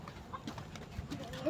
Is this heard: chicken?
yes